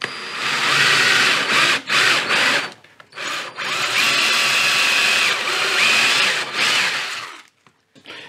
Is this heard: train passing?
no